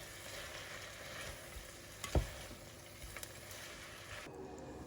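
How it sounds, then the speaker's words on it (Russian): Carrots, meat and onion for Uzbek pilaf frying and stewing in a pot over medium heat give a faint, steady sizzle, broken once by a sharp knock from stirring. "Обжариваю, тушу морковь вместе с мясом и луком под закрытой крышкой примерно 10 минут."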